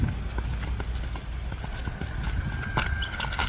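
A horse walking in Kyrgyzstan, a five-year-old standing about 1.49 m, its hooves clip-clopping in a steady repeated rhythm close by against light background noise.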